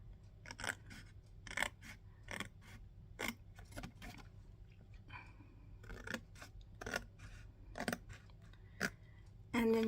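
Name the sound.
cutting paper card with scissors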